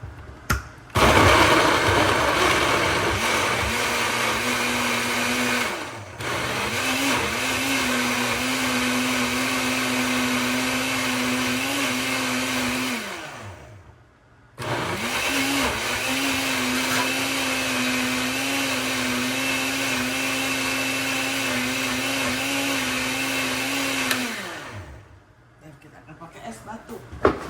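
An electric blender runs, whirring loudly while blending a homemade healthy juice, in three long bursts separated by brief pauses, with a steady motor hum throughout.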